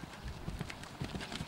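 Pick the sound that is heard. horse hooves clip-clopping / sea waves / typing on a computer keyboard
horse hooves clip-clopping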